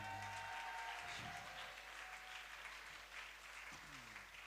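A church congregation applauds during a Sunday morning French-language service, a steady wash of clapping from many hands that holds throughout, with faint voices mixed in.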